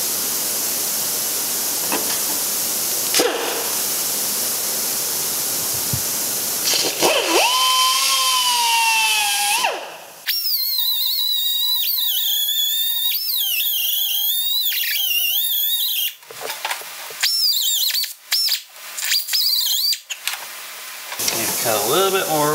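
Power tool cutting into the housing of a Stanadyne diesel injection pump on an International wheel loader, bursts of whining, pitch-shifting grinding with pauses in between, loud and close.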